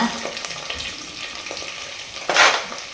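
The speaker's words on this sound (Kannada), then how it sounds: "ಅದು ಎಣ್ಣೆ ಕಾದಿದೆ ಇವಾಗ ಕರಿಬೇವಿನ ಸೊಪ್ಪು ಮತ್ತು ಈರುಳ್ಳಿನ ಹಾಕೋಣ" Curry leaves and onion dropped into hot oil, a continuous crackling fry with a sudden louder spitting burst toward the end, close by.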